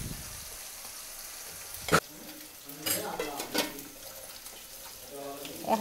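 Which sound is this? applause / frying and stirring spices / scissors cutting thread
frying and stirring spices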